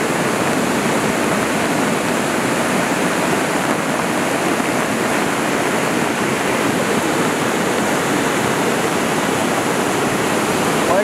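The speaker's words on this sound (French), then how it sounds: "il y a des gerbes d'eau sous la grande cascade de la Croix des Têtes" Loud, constant roar of rushing water from a waterfall and torrent during a debris flow, dense and unbroken throughout with no voices.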